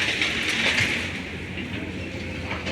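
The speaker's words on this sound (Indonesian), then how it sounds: "Kita coba mendekat ke lokomotif yang mendorong gerbong ini." A locomotive pushes flat railway wagons loaded with sleepers and rails on an Indonesian high-speed railway construction site, a steady rumble with rolling wheel noise that fades slightly as it goes on.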